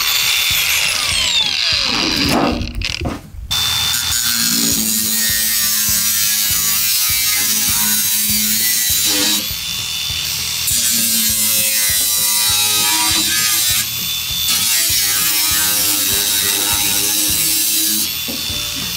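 A power tool cuts through a tall, woody udo plant outdoors, loud and steady whining with a brief sharp cutting burst and stall near the start, then sustained buzzing that shifts pitch at times.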